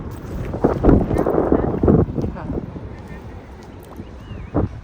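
Wind gusting across a long seaweed-covered beach on an island at the mouth of the Irrawaddy in Myanmar, with rough buffeting swells near the microphone while someone talks over it.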